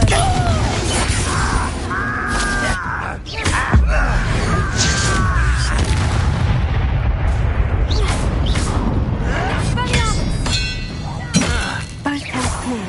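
Explosive magic blasts and shattering impacts from Hogwarts Legacy combat, with repeated booms, breaking and clinking debris, and whooshing spell effects, layered over steady battle noise and brief voices.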